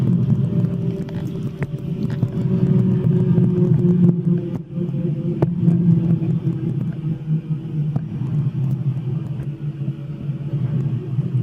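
Training helicopter rotor winding down with the rotor brake applied, a steady loud low rumble and drone holding throughout with faint ticks, no voices.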